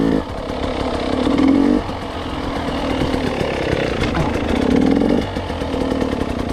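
A motorcycle engine running close by, steady drone with two stretches of rising revs, chattery mechanical clatter throughout, no talk.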